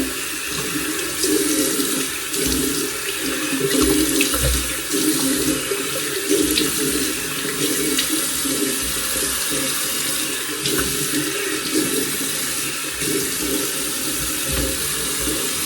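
Hot tap water runs steadily into a sink, splashing and gurgling close by, with the flow changing slightly as hands move through it.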